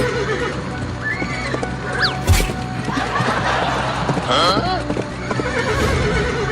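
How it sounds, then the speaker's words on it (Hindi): A horse whinnies sharply several times over rapid hoofbeats, with voices and background clatter mixed in. "ये मेरा घोड़ा तो रुक ही नहीं रहा।"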